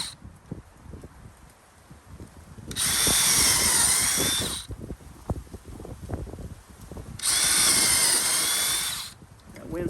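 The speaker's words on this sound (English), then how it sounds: "Again, we're just drilling our marks." Power drill with a 1/4 inch bit boring marked holes for trailer wheel chocks outdoors, two sustained high whining bursts of about two seconds each, loud and close, separated by quieter handling noise and wind.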